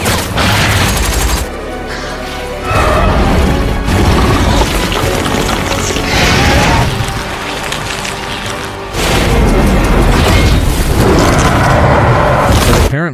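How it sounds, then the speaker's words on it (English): A bomb explodes inside a giant monster: loud, sustained booming blasts roll in repeated waves, heavy and close, with brief lulls between the roaring bursts. "Artemis threw a bomb into Rathalos' mouth, which caused a huge explosion inside Rathalos' body."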